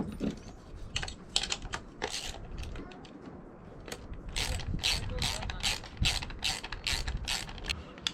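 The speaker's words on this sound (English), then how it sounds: "Time for a ratchet set." A hand ratchet turns a bolt on a razor clam gun build, giving quick bursts of close, crisp clicking with short pauses between strokes.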